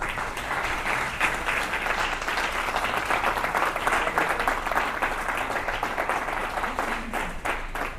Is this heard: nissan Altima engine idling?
no